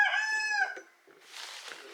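A rooster crows once, close and loud, followed by quieter rustling and background noise.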